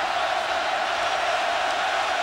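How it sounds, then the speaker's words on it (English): A college football stadium crowd roars from the student section at an Alabama Crimson Tide vs Penn State Nittany Lions game, a dense, steady wall of distant cheering and yelling that holds at full volume throughout. "They are making some noise in the student section"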